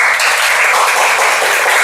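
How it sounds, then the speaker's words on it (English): Loud, steady round of applause from a Toastmasters meeting audience for Toastmaster Mami, dense continuous clapping close by with no voices. "please give a round of applause to Toastmaster Mami"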